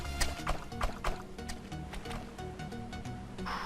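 A small boat in the survival game Stranded Deep moves across open water, with soft rhythmic splashing and paddling knocks that repeat every half second or so, quiet and close.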